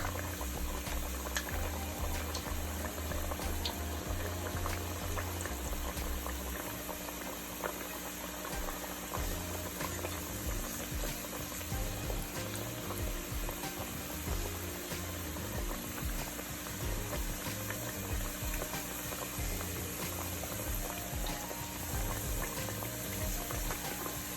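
Plantain fries in a pot of hot oil with a steady, dense bubbling sizzle that runs unbroken and fairly close, with no voices.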